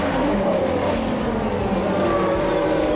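Formula 1 race cars roar into a corner during a Verstappen–Hamilton battle, engines whining loud and close with shifting pitch as they brake and turn, heard alone without talk.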